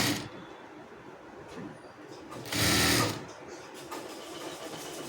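A sewing machine stitches a blouse front in a short, loud mechanical burst near the middle, with quieter cloth handling and soft rustling before and after.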